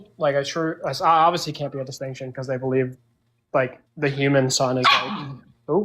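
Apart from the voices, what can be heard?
dog barking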